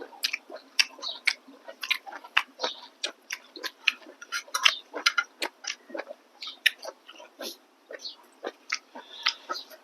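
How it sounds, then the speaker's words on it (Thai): Wet, squishy chewing of beef tendon boiled until soft, heard up close as a steady run of bites and smacking mouth sounds with no talking. "เอ็นเราต้มจนเปื่อย เคี้ยวง่ายค่ะ"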